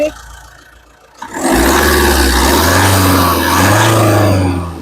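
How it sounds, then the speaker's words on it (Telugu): A 2018 Jeep Compass Limited Edition engine cranks and starts at about 1.2 s, then runs steadily and loudly close by, with a low, even drone and slight swells in level. "మళ్ళీ మీకోసం ఇంజన్ స్టార్ట్ చేసి చూపిస్తాను"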